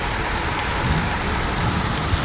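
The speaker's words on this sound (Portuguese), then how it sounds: "Fazia tempo que eu não vi uma chuva desse jeito." Heavy rain pours down outdoors in a steady, loud, dense hiss with no pauses and no voices.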